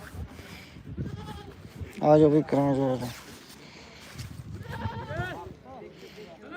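Goats bleating at a livestock market in Dhanaula, Punjab, with several wavering bleats rising near and loud over steady crowd chatter and someone talking throughout.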